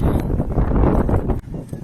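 Strong wind buffets the microphone, a loud rumbling roar with gusty surges that dips briefly near the end.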